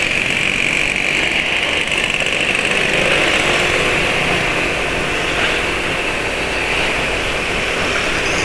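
A Yamaha NMAX motorcycle engine idles while warming up, giving off a steady, close, unbroken mechanical hum with a constant whine and no voices over it.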